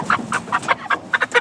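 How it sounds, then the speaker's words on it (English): Cornish Cross meat chickens in a chicken tractor in the morning, heard close and alone as a quick series of about nine sharp, rhythmic clucks. "the Cornish Cross chickens are enjoying their chicken tractor"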